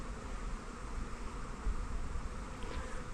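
A dense, continuous buzz of a honeybee swarm close to the microphone, steady and loud without pauses.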